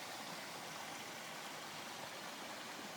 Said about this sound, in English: We're following this creek or brook back.